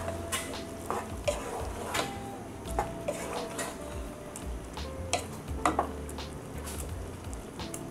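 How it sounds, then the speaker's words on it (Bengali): Chickpea dal cooked with chicken mince is stirred in a pot, giving repeated soft scrapes and light metallic taps of a spoon over a low bubbling simmer, close by and without talking. "একটু নেড়ে দিব।"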